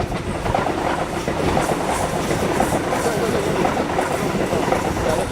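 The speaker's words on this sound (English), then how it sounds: "Ask these people that they live next to the railway lines, what do they think about the noise?" A train rolls past on a railway line in Australia, a loud, continuous rumble with rhythmic clatter from the wheels, heard close up.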